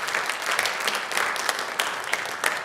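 Congregation applauding after a musical performance at a church service, a steady, dense wash of clapping at moderate level with scattered louder claps and no talk over it.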